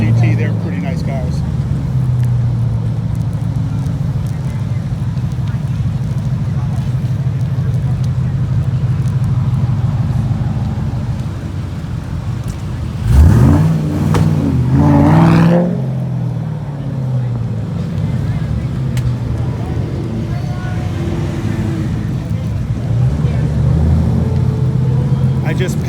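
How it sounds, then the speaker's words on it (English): A 1968 Mercury Cougar convertible passes by during a street cruise on Woodward. A brief engine swell rises and fades over several seconds against steady traffic rumble and wind noise, with people talking. "Just passed by, I don't know if it got on video or not, a very rare 68 Mercury Cougar convertible"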